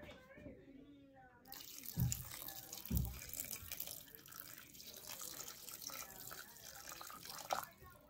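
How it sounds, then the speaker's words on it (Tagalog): Water pours steadily from a tap into beef in a pressure cooker as beef pares is prepared, a continuous splashing rush with a couple of dull thuds near the start. "lagyan natin siya ng tubig."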